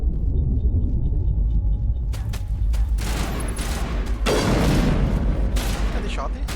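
Gunfire in the Mass Effect video game, with sharp shots followed by a loud, sustained burst of fire and rumbling impacts over a dense noisy backdrop.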